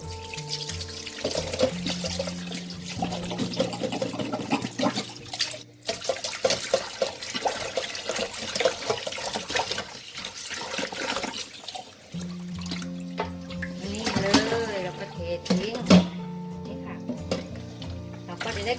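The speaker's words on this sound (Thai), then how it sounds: "เราก็ เทน้ำต้มสายชูทิ้งแล้วล้างน้ำสะอาดเลยค่ะ" Water is poured off boiled chicken and the chicken is rinsed under clean running water in a kitchen, with splashing, tap flow and handling noises coming in uneven bursts across the stretch.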